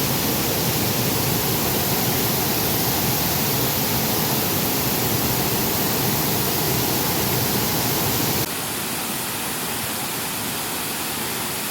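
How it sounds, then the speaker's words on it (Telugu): A hidden waterfall running in heavy flow after rain, heard as a constant, dense rushing roar with no pauses, dropping slightly in level near the end. "ఇదే అన్నమాట హిడెన్ వాటర్ ఫాల్."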